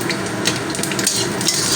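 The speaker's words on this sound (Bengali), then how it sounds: "তো ফোড়নটা দশ থেকে বারো সেকেন্ড একটু তেলের মধ্যে ভাজা ভাজা করে নেব" Panch phoron spices with a few bay leaves fry in hot oil in a pan, giving a steady close sizzle broken by light scraping stirs.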